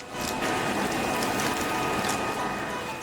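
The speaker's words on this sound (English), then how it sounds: "So I put it in and cranked up the blower." Forge blower heating a forged gun-blade, a loud, steady mechanical whir and rattle that runs without pause, with a voice faintly under it.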